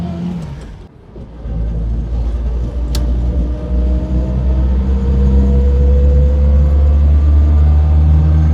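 Inside a car cruising at about 50 with an oil-burning engine, a loud, steady low rumble of engine and road noise fills the cabin after a brief dip at the start.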